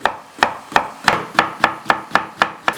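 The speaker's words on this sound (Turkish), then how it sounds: "Kabakları doğrayacağız." Sharp, regular chopping knocks, about nine in quick succession, as a blade cuts through zucchini on a board close by.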